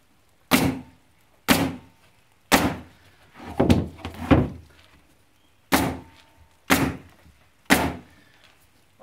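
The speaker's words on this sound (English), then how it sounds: "I'm going to use a pneumatic roofing gun to nail my perimeter pieces" Pneumatic roofing nail gun driving nails into the perimeter pieces of structural insulated panels, giving sharp, loud single shots with pauses between, including a quick cluster of shots in the middle.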